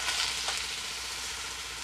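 Wild mountain vegetable pancakes with deodeok, dureup, jandae, dallae and thistle in a little flour fry in a pan, giving a steady, soft, dense sizzle and crackle, close by, with no talking.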